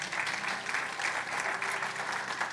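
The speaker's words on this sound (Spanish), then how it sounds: "Denle un aplauso fuerte al Señor porque Él es bueno." Congregation at a Spanish-language Christian community church breaking into applause, a brief, moderately quiet but steady burst of many hands clapping with a faint sustained tone beneath.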